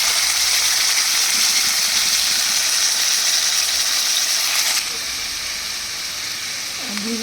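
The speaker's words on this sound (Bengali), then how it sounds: "এর মধ্যে দিয়ে দিচ্ছি মশলাটা দিচ্ছি হলো জিরে আর ধনে পেস্ট করা" Cumin and coriander paste going into a hot pan for a light potato and fish curry, giving a bright, hissing sizzle that drops to a softer, steady fry partway through.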